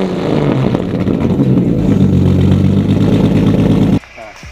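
A 1991 Nissan Cefiro A31 with a swapped 2JZ engine runs close by, a loud, deep, throbbing engine rumble that holds steady for four seconds and then cuts out abruptly, with someone speaking over it.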